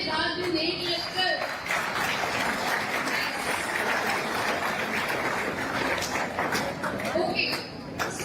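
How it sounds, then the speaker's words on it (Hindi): Parents at a student seminar held by Aakash Institute applaud their children, a dense, steady wash of clapping from a crowd that carries on for several seconds with voices mixed in. "पेरेंट्स आप अपने बच्चों के लिए जोरदार तालियां बजा दीजिए"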